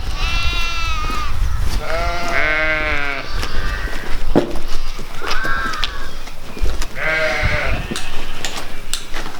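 Several sheep bleat in long wavering calls, close and loud, in a rural spot near an old WWII anti-aircraft gun battery camp at Bannerhill, with a few shorter bleats between them and no talk.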